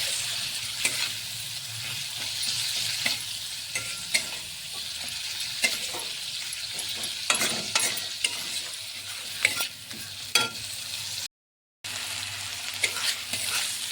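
Tomatoes and water stirred into a frying puti fish curry (Bengali jhal) in a pan: steady sizzle with repeated scraping spoon strokes and occasional clinks, close and fairly constant, with a brief dropout near the end.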